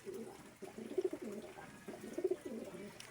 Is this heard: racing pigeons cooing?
yes